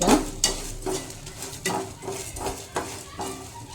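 Cardamom, cloves and cinnamon stirred in a pan on low heat for bisi bele bath powder, a steady series of metallic scraping and clinking stirs, close and fairly loud, with no talking.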